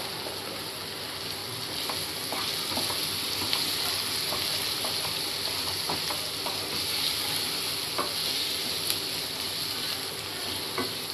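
Raw banana vegetable with turmeric frying in a pan, a steady close sizzle with scattered clicks and scrapes of stirring throughout, no voices.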